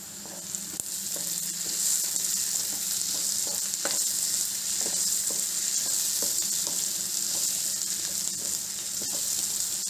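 Green chilies fry in an egg masala gravy curry, giving a steady close sizzle with frequent soft taps and scrapes of stirring throughout, with no voices.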